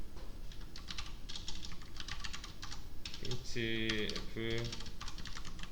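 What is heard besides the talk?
typing code on a computer keyboard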